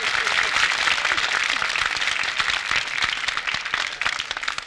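A studio audience on an Italian television show bursts into dense, sustained applause, many hands clapping steadily and fairly close throughout.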